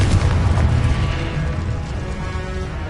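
In a Harry Potter video game, a Confringo blasting curse bursts with a heavy, loud explosion whose deep rumble slowly fades over a few seconds.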